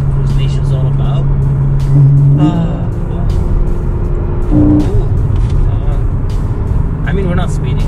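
A 2015 Porsche Boxster GTS cruises on the road with a steady loud engine and road rumble, a few gear and revving swells rising over it, and voices talking throughout.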